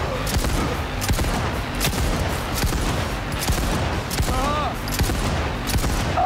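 Continuous video-game gunfire from Cyberpunk 2077, dense and loud, with rapid overlapping shots and explosive bursts layered over game music and effects throughout.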